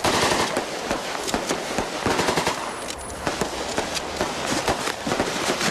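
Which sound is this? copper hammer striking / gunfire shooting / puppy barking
gunfire shooting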